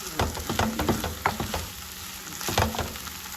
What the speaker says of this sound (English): So now what I'm going to do is gently braisen the Beyond sausage.